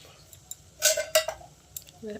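A spoon stirs food seasoned with cardamom powder and cashews in a metal pot, producing a few sharp metallic clinks and brief scrapes against the pot with short pauses between them.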